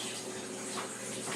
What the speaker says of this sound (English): So let's get some more water in here